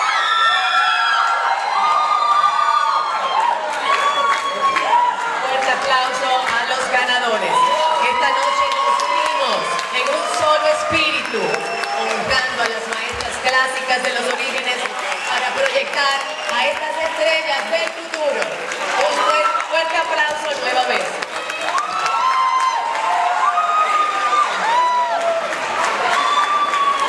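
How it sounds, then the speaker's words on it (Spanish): An audience at an awards ceremony applauds and cheers loudly, with whoops and shouting over the clapping, and the lively crowd noise carries on throughout, mixed with voices. "Fuerte aplauso."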